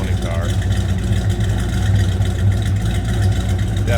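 A 1969 Plymouth Road Runner with its numbers-matching high-output 383 V8 idling from the rear, a loud, close, rumbling exhaust burble that stays steady throughout.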